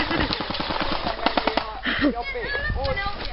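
Rapid bursts of gunfire in a shooting video game, with fast machine-gun rattles and scattered single shots heard close and loud while players talk and shout over them.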